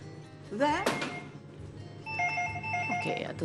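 An incoming call rings on a telephone in a TV cooking studio where pasta salad is being made, a stepped electronic ringtone melody coming in partway through after a brief clatter, with a voice speaking in the background.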